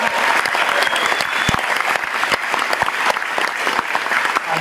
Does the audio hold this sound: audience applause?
yes